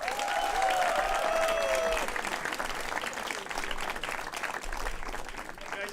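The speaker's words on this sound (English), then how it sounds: "you guys are gonna give him a very, very, very, very big round of applause" Comedy club audience applauding the first comic of the night, a broad sustained wash of clapping from a crowd, with a faint whistle-like tone early on and the applause thinning gradually.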